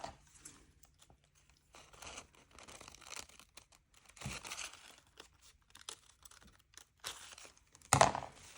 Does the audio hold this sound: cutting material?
yes